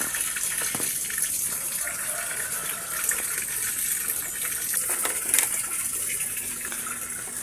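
Water gushes steadily from a tap to fill containers for storage, a loud continuous rush with no pauses.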